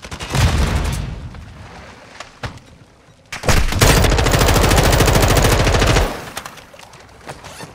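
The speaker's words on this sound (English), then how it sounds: "I got one with a grenade. Throwing Semtex." In Call of Duty Modern Warfare 2, a booming Semtex grenade blast and rattling bursts open the scene, then after a short lull a long, loud run of automatic gunfire pounds close by.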